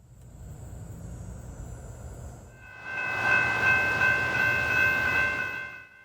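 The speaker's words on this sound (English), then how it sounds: "a loaded ballast train." A loaded ballast train hauled by P32-8 locomotives rumbles past, starting as a low distant roll and swelling into a loud, bright rushing clatter with steady tones before fading slightly.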